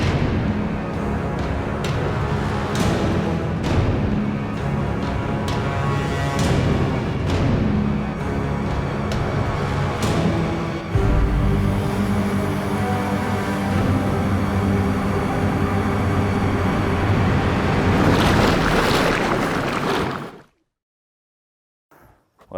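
A vehicle fords a swollen river, water rushing and splashing loudly and continuously around it for about twenty seconds before cutting off abruptly.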